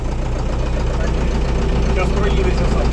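A Scout TD-1104C tractor diesel idles steadily while warming up, a constant low throbbing rumble close by, with people talking over it.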